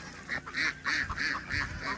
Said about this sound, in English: it looked like there's a duck over here that had a hurt leg